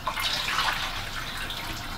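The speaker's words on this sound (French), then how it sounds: "il faut faire un petit complément avec de l'eau chaude" Hot water pours into a large pot holding glass jars of bolognese sauce being sterilized, a steady splashing rush that swells briefly and then settles into an even flow with no voices.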